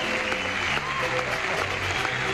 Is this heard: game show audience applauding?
yes